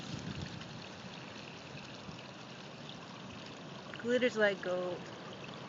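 Continuous trickling and rushing of a clear spring-fed stream in Jefferson County, Missouri, steady and moderate, with someone briefly speaking over it near the end.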